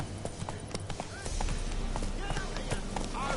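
A horse gallops in The Witcher 3, its hooves clip-clopping rapidly and a neigh cutting in, under a low rumble of game ambience and quiet voices.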